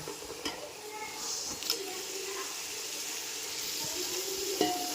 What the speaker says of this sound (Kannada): ಈಗ ಒಂದು 2ರಿಂದ 3 ನಿಮಿಷ ಈ ಮಸಾಲೆ ಅದರಲ್ಲಿ ಎಣ್ಣೆಲಿ ಮಿಕ್ಸ್ ಆಗೋವರೆಗೂ ಫ್ರೈ ಮಾಡಿ